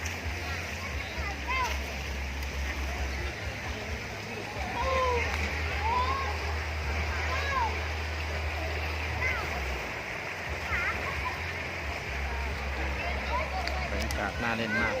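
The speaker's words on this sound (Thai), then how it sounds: "มาเล่นน้ำตกแก่งสะเดาครับ" Waterfall at Kaeng Sadao with steady rushing water and scattered splashing, a continuous broad wash throughout, with voices faintly mixed in the background.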